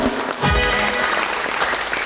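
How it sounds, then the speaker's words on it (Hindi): Applause rises from a talk show studio audience in a short, steady wash of clapping lasting about two seconds, with no break. "Hunza के लिए यार तालियां, वाह।"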